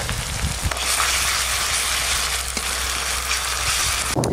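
Ginger garlic paste fries with onion paste in hot oil, making a steady close hiss and sizzle, with a brief utensil clatter near the start and again at the very end.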